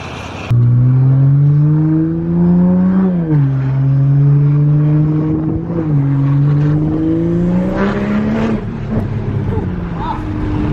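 A Volkswagen Golf engine revs loudly and close at a dyno day, its pitch rising, dipping and climbing again through several sustained pulls. Speech is mixed in underneath.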